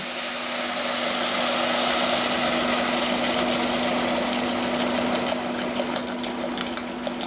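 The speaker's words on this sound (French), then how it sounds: "Bon, allez, je fais le bouillon. Je mets de l'eau." Water pours steadily into a cooking pot to start a soy-based broth for noodles, a continuous close gushing rush with a faint steady hum beneath, no talking.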